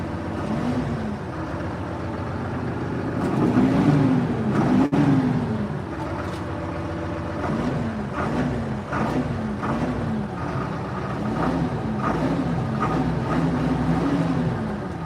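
A mini tractor engine idling quietly, a steady low hum with a faint rhythmic wavering that holds throughout, close and unbroken, with no talk.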